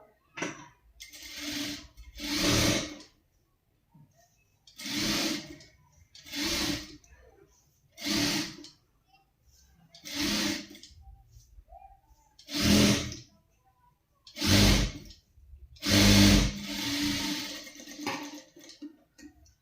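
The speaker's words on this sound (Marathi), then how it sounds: "आता डबल आपण इथे शिलाई मारून घेणार आहोत" A sewing machine stitches a double seam on fabric in repeated short bursts, each a second or so long and separated by pauses, sounding close and moderately loud.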